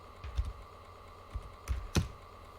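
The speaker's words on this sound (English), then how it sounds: "Pressing all the obvious keys." Keys on a computer keyboard are pressed while playing the game Wizball, giving a handful of sparse, close clacks with uneven pauses between them, quiet and alone.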